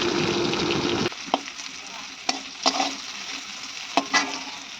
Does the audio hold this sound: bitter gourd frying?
yes